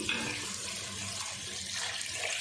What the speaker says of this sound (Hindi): अब डाल देंगे पानी।